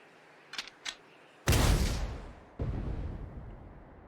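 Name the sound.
tank cannon shot fired, from video game Sand Land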